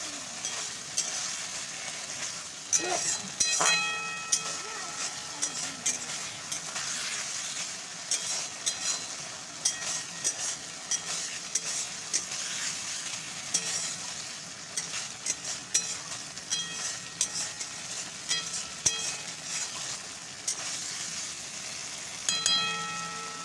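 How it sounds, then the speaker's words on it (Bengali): Pointed gourd sautés in oil in a pan with a constant soft sizzle, while a spatula scrapes and taps the pan in irregular strokes, close by and with no one talking. "পটলগুলো দিয়ে সুন্দর করে কষিয়ে নিচ্ছি"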